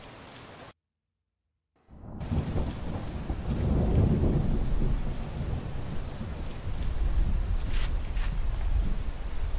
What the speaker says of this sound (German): Ja, und jetzt stehen wir im Regen, ne?